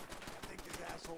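Rapid gunfire aimed at a turret in the Fallout 4 video game, a dense run of close, loud shots packed tightly together across a short burst.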